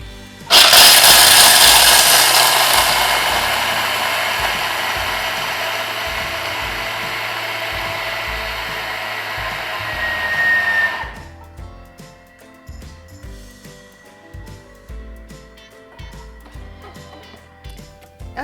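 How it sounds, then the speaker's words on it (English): Raw almonds whirled at high speed in a Thermomix into almond meal: a loud, steady grinding roar for about ten seconds that cuts off abruptly, followed by quieter scattered clinks and rattles. "we're going to go to high-speed blending to make it into an almond meal"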